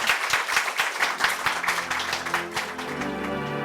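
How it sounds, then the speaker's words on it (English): Studio audience applauding a discussion panel at the close of a live radio show, a steady wash of clapping that gradually thins and fades toward the end. "Can we get one more round of applause for the panel?"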